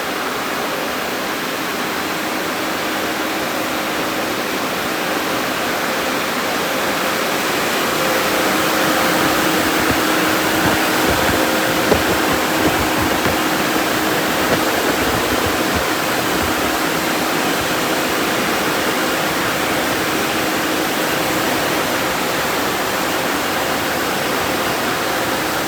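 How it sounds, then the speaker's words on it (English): A Belanger car wash dryer at an express car wash blows a steady, loud broadband roar of rushing air that swells slightly midway and holds constant throughout, with no talking. "Dryer sounds a lot different. Sounds like a Bellinger dryer."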